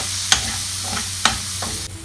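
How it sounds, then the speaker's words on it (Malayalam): A spatula stirs pav bhaji masala with chilli powder, cumin, onion and ghee frying in a pan, a steady soft sizzle broken by a few sharp scrapes and clinks of the stirring, with no voices. "നല്ലോണം ഇളക്കി കൊടുക്കും."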